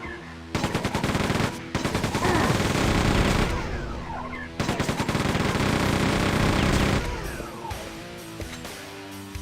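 Rapid turret gunfire in Quake II, loud dense machine-gun bursts in several long volleys broken by short pauses, close and dominant.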